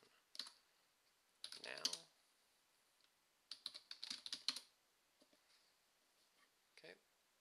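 A Ubuntu shutdown command is typed on a computer keyboard in quiet, close bursts of rapid key clicks separated by pauses, and a voice briefly speaks.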